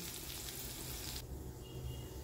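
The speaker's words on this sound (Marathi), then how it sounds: "मोहरी तडतडली की थोडं जिरं घालायचं आणि गॅस आपल्याला बंद करायचा" Mustard seeds crackle and sizzle in hot oil for a tempering, a dense, continuous hiss that turns slightly duller midway.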